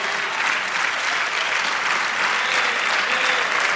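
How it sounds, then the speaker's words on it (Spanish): A church congregation applauds during a Spanish-language worship service, a dense, even wash of clapping that holds steady without voices. "dese un aplauso, eso es maravilloso"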